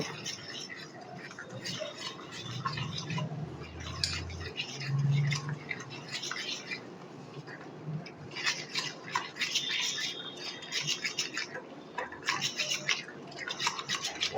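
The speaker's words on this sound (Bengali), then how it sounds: "খুব ভালো করে এটা মিলিয়ে নিতে হবে" Palm fruit cake batter with baking soda is mixed in a bowl, giving quick rhythmic scraping and tapping strokes that come in bursts. A low voice murmurs briefly in the background.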